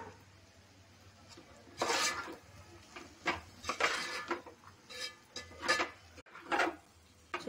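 Spoon scraping and clinking in a pan as sesame powder is stirred into a broad bean fry, irregular soft scrapes and knocks at close range with quiet gaps between.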